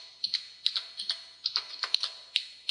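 Someone types a web address on a computer keyboard, a quick irregular run of light, close key clicks with short pauses between bursts, fairly quiet with no talking.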